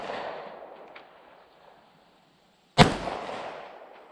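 A Smith & Wesson EZ9 pistol fires a single sharp, loud shot at a range after a quieter stretch of background hiss, with the report ringing briefly afterward.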